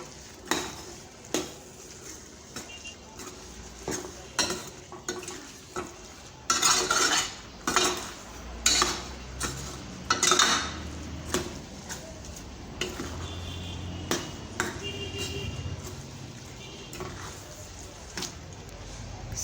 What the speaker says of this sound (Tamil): இப்போ நம்ம அரைச்சி வச்ச தேங்காயும் இது கூட சேர்த்துட்டு நல்லா கலந்து விட்டுறலாம்